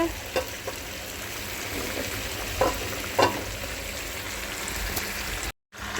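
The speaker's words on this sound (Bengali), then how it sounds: "এই দেখো মাংসটা এখানে কষাচ্ছি" Mutton sautéing in a pan for a red mutton curry: a steady, fairly quiet sizzle with a few short stirring scrapes and knocks, and no talking.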